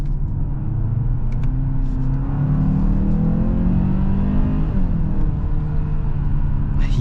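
A 2022 Hyundai Santa Fe with the 2.5 engine and 8-speed automatic accelerates in sport mode, a steady engine drone rising in pitch through the gears under cabin road rumble, with no talking.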